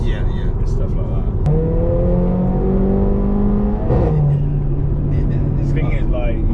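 A Mercedes A45 AMG engine revving, rising and falling tones as the revs climb and drop, loud and close, with people talking over it.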